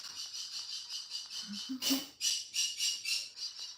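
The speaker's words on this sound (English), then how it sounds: "Oh, he's a noisy bird." A pet bird squawks in loud, shrill bursts, one after another, close by with no talking.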